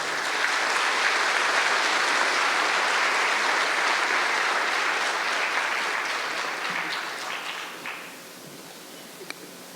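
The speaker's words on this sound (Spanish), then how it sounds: "les pido que recibamos con un aplauso a nuestros primeros conferencistas" A conference audience claps for its first speakers, sustained dense applause filling the hall for several seconds before thinning out and fading near the end.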